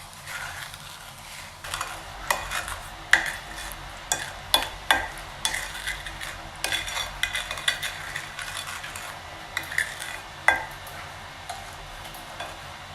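A spoon stirs a fruit and sugar mixture for raspberry peach freezer jam, giving a series of irregular scraping and clicking strokes against the bowl, close and fairly quiet.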